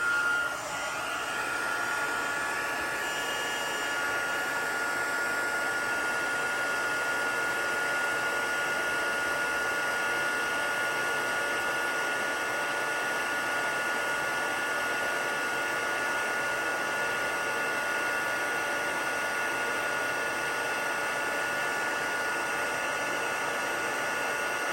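Heat embossing tool blowing hot air onto a handmade Christmas card, a steady close whooshing hiss that holds at constant loudness throughout with no talk.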